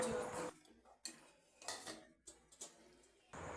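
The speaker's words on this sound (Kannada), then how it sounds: "ಈಗ ಮಸಾಲೆನೂ ಒಗ್ಗರಣೆನೂ ಚೆನ್ನಾಗಿ ಮಿಕ್ಸ್ ಮಾಡ್ಕೊಳ್ಳೋಣ" Metallic scraping and clanking of a utensil against a pan while mixing masala and tempering for mutton keema sambar, in several short bursts separated by brief pauses, close up with no voices.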